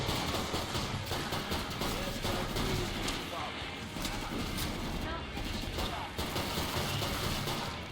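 Rapid, repeated shotgun blasts in dense bursts, loud and close, with overlapping shots forming a chaotic barrage, in the game Killing Floor 2.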